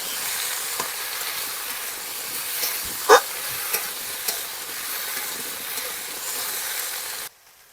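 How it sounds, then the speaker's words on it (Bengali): Continuous oil sizzle of potato and green banana frying in a pan, with a few scraping stirs and clicks partway through, then it cuts off near the end. "একটু ভালো করে তেলটা নিয়ে ভালো করে একটু ভেজে নেবো আলুটা কাঁচকলাটা"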